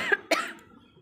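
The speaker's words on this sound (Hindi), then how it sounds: "देखिए खांसी बहुत तेज हुआ है, सूखा खांसी होता है," Two sharp dry coughs from a woman who is unwell, close and fairly quiet, followed by a brief breathy tail and silence.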